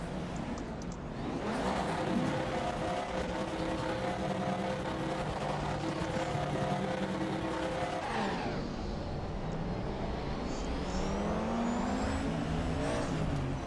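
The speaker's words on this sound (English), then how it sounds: "Driving the Audi V8." An Audi V8 race car roars steadily in the RaceRoom Racing Experience game, its engine note rising and falling through gear changes, loud and continuous with a brief dip near the middle before revving on.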